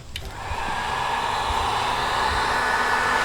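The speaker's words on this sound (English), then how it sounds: "the first thing we tried to use the heat gun" A heat gun blows steadily and loudly, warming decal adhesive on the fiberglass roof of a vintage RV, a constant airy roar that holds alone for several seconds after a brief start.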